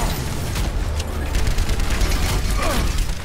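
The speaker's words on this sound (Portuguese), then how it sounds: "E o Junkrat que tá sorteando bomba de lá, cara" Explosions from Junkrat's bombs in the Overwatch video game go off amid a dense, continuous din of gunfire and combat effects, the blasts blending into steady loud chaos rather than standing apart.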